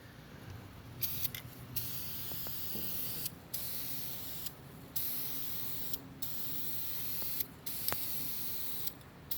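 An aerosol can sprays chrome paint onto a wooden clock piece in a series of sharp hissing bursts, each lasting a second or two and separated by short pauses with faint clicks of the nozzle.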